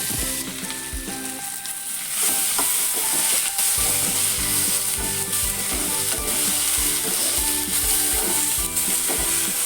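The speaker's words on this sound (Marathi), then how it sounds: "इथे फक्त कांदा आता भाजून घेते मी." Chopped onion roasting and sizzling in a pan for a Goan chicken xacuti masala, a steady loud fry with scraping stirs throughout and no talking.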